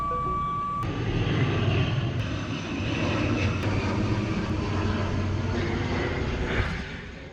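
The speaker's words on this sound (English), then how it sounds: "Here comes the plane." An airplane flies low over Kinmen Island, its engine roar broad, steady and fairly close for several seconds before fading slightly at the end, with no talking.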